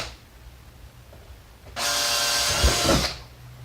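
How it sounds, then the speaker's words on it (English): A power drill bores mounting holes for dual 6.5-inch speaker pods in the door panel of a 2007-2014 Silverado truck, a single loud whine lasting over a second close by after a quiet pause. "Now we're going to go ahead and drill the rest of the holes, the mounting holes, making sure that we are centered in the mark"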